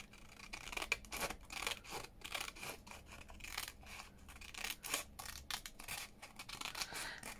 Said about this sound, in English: And I'm just going to cut round it.